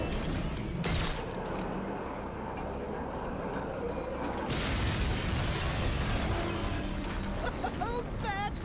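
An explosion at Ace Chemicals in the video game Batman: Arkham Knight: a dense, loud roar of rumbling and shattering debris runs throughout, swelling again midway and then fading into scattered tonal effects.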